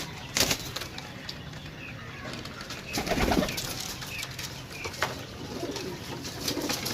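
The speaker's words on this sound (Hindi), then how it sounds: "फिर देसी कबूतर चेक करो सही है" Domestic pigeons coo softly nearby while wings flap in several sharp bursts, one larger flurry midway, over a low background hum.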